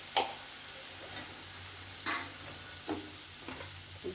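Soft sizzling of turmeric powder frying in oil for raw mango thokku, punctuated by a few sharp clinks and stirring scrapes from a utensil against a pan.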